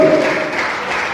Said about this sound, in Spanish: Denle fuertes palmas a Jesucristo